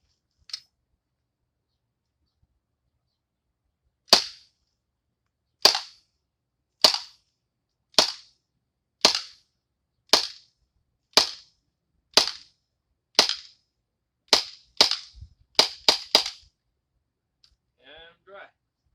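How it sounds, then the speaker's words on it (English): Airsoft pistol loaded with a 14-round magazine fires a series of sharp, snappy cracks, about a dozen evenly spaced shots that quicken near the end, followed by faint mechanical clicks. "I'm going to put the magazine in, and we're going to fire."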